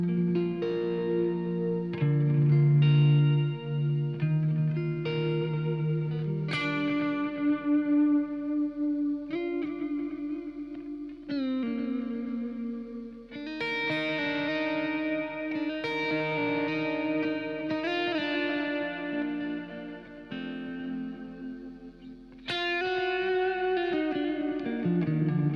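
Electric guitar on a clean patch played through a reverb effect, picking single notes and chords whose tones ring out and trail off into lingering wash, moderately loud with no talking.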